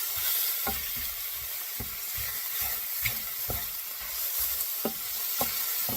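Mushrooms and Italian sausage sizzling steadily in a pan, with a spoon scraping through at a regular rhythm and clear knocks against the pan, close and even, with no voices.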